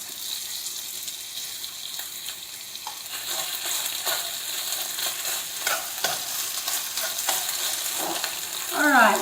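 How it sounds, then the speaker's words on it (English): Rice frying in a hot wok for lunch, a steady broadband sizzle and crackle with scraping stir strokes. A few sharper clatters come in the last second, with no talking. "once it starts frying it'll form a crust"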